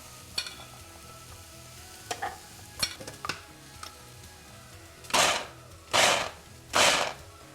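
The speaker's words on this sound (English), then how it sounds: "So here I have Ninja I'll be using instead of food processor." A Ninja blender pulses a navy bean mixture, three short, loud whirring bursts in quick succession near the end, preceded by a few light clicks and knocks.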